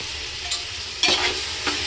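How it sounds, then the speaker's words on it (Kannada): A spoon stirs chopped mint into dum biryani in a pot, giving a steady close scraping and sizzling bed with three brief louder scrapes spaced about half a second apart, no voices. "ಪುದೀನ ಹಾಕಿ ಚೆನ್ನಾಗಿ ಮಿಕ್ಸ್ ಮಾಡಬೇಕು."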